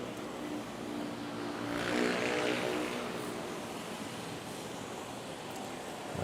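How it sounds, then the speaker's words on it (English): A Jetstar airliner takes off at Manila's NAIA airport: a loud, steady roar that swells to a peak around two seconds in and then holds as a broad rumble, with no voices. "That's where the Jetstar headed to Osaka, Japan."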